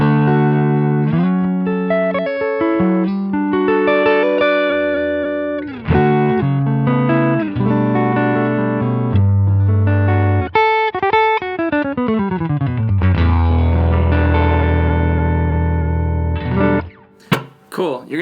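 An electric guitar runs through a Helix Princeton amp model with a Heir Apparent (Prince of Tone copy) boost in boost mode, giving a warm tone. Sustained chords and melodic single notes play alone, up close, with a brief noisy burst near the end.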